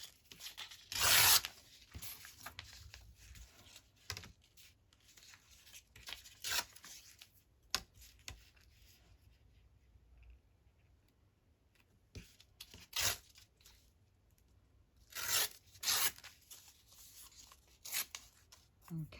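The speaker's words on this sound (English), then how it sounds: "Ledger paper. I just want to tear these" Sheets of ledger paper are torn by hand in a craft session, sharp ripping bursts coming in scattered clusters between quiet pauses, close and fairly loud.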